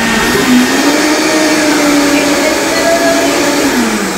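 A blender whirs loudly and steadily, its pitch drifting slightly as the motor strains, running continuously without pause.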